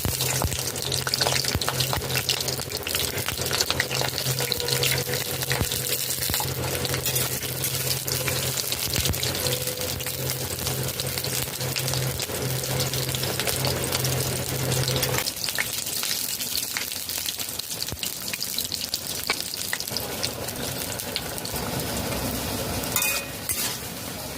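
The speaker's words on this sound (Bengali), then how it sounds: "কড়াইতে সর্ষের তেল দিয়ে দেবো তিন টেবিল চামচ ছটি পটল এইভাবে কেটে নিয়েছি ভেজে নেবো" Slices of pointed gourd fry in mustard oil in a wok, giving a steady, close hiss with scraping and stirring throughout, a low hum in the first half, and no talk.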